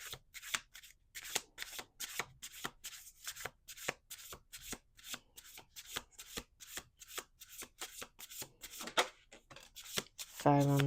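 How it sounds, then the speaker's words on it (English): A deck of oracle cards is riffled and shuffled repeatedly in quick, crisp bursts, close up and fairly quiet, with a brief voice at the very end. "One more shuffle."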